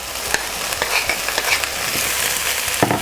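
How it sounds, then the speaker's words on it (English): Tomato tumbling into peppers frying in a pan for shakshuka, with a steady broadband sizzle and a few sharp stirring clacks and scrapes, close and fairly loud throughout. "And now I'm also adding the tomato to the pepper."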